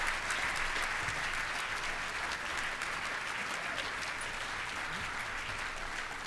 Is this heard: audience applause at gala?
yes